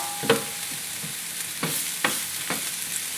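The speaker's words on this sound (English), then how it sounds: "I've used a whole red onion, and just sweat that off a little bit. I'm going to add 3 tablespoons of butter." Butter and a whole red onion sweating gently in a pan, with a few scattered soft stirring scrapes and light sizzle, quiet and close, no voices.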